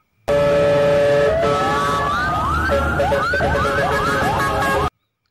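A loud electronic siren wails in repeated rising sweeps over a steady tone, close and continuous, then cuts off abruptly, like a toy fire truck.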